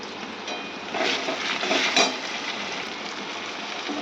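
Peas frying in a pan with freshly grated ginger just added, a steady close sizzle with a few stirring scrapes and a brief louder burst of spatter midway.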